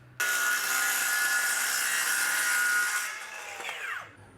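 A power saw ripping a 1/2-inch plywood sheet down the middle: a loud, sustained whining cut for about three seconds, then the blade winding down with a falling pitch.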